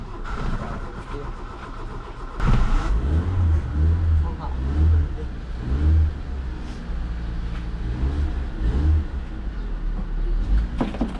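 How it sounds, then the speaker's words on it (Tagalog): A car engine cranks and catches, then revs in several throaty bursts that rise and fall close by, while someone speaks over it. "Engine start."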